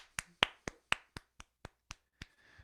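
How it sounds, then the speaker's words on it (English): Roughly ten sharp, evenly spaced hand claps, close and fairly quiet, during a music lesson on left-hand rhythm patterns, with a faint tone lingering at the end. "round of applause"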